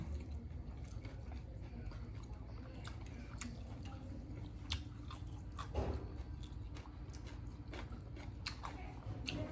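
Close, wet chewing of soft grilled Thai wagyu rump steak with ketchup, with steady squishy bites and small clicks over a low background hum and no talking.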